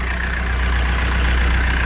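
A Cummins QSF 2.8 engine runs steadily at close range, a loud continuous droning hum with no breaks and no voices.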